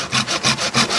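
A hand saw cuts through a branch of a kimeng (Chinese banyan) bonsai tree in quick, close back-and-forth strokes, about five rasping pulls in a steady rhythm, with no voices.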